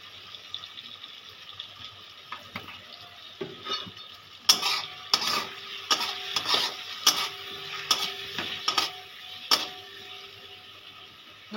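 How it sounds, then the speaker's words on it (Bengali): Potatoes being fried with masala and a spoonful of turmeric in a pan for a Bengali fish curry, giving a soft steady sizzle broken by repeated sharp scraping stir strokes in the second half. "3 মিনিট মতন আলুটা আর এই মশলাটা আমি কষিয়ে নিচ্ছিলাম"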